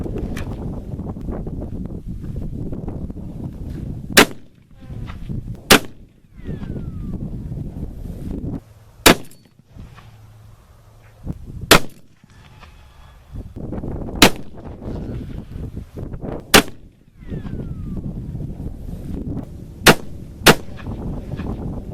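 A 7mm Remington Magnum rifle fires nine sharp, loud shots at irregular intervals, spread over an outdoor range with steady wind rumble and occasional murmured talk between them.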